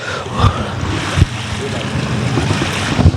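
Untreated wastewater flowing back into the Buddha Nullah beside Tajpur Road, a steady close rushing wash with wind buffeting the microphone and a few sharper splashes.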